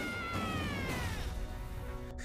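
A cat meows in a scene from the animated series RWBY, a sustained meow sliding in pitch over a low, busy background, with a brief sharp noise near the end.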